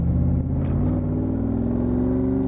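A 1965 Shelby Cobra Factory Five replica idles and revs gently, its exhaust pipes kept fairly quiet, producing a low rumbling engine drone with rising harmonics as it pulls away, loud and close with no talking.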